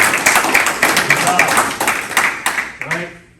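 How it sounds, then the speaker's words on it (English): An audience at a Guam Army National Guard battle handoff ceremony applauds troops, a loud, dense wash of many hands clapping that holds steady, then thins and fades at the end. "Please give these warriors a round of applause."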